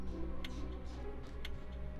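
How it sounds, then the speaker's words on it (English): Ominous clock ticking in the Catherine video game, faint and steady, with sharp ticks roughly every second over a low droning ambience. "Back to this ominous ticking."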